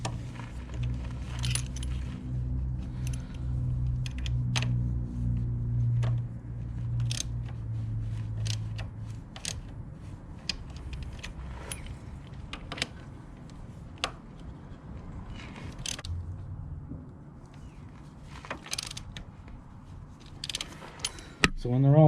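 Metal tool clicks and light jangling while valve cover bolts on a Honda Ruckus scooter are tightened during a TRS valve cover install. The clicks come in scattered bursts over a low hum that fades halfway through.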